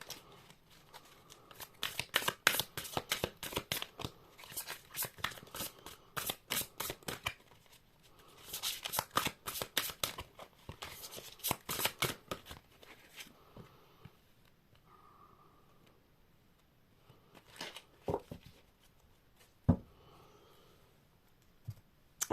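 Tarot cards shuffled by hand in a series of quick, crisp riffling bursts, dense at first and then thinning to a few scattered snaps near the end, close and fairly quiet with no talking.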